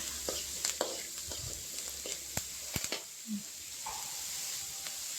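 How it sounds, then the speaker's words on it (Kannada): Kabuli chickpeas fry with curry leaves in a hot pan, giving a steady hiss of sizzling oil broken by sharp clicks and scrapes of a spoon stirring against the pan. "ಈಗ ಚೆನ್ನಾಗಿ ಫ್ರೈ ಮಾಡ್ಕೊಳ್ಳೋಣ."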